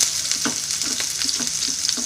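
Onions hiss and crackle in hot oil for liver fry, a bright, constant sizzle close up with soft rhythmic stirring scrapes every quarter second or so.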